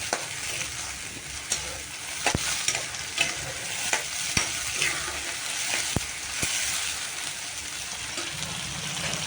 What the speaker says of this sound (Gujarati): હવે ડુંગળીનો થોડો કલર બદલે એટલે આપણા ઝીણા સુધારેલા ટમેટા નાખી દઈશું અને તેને થોડી વાર આપણે ચડવા દઈશું.